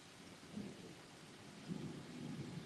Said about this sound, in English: That's a fun storm.